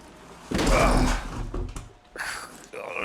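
In the video game Heavy Rain, a door is forced open with heavy thuds, scraping and a rattling mechanical clatter, loud and close in uneven bursts.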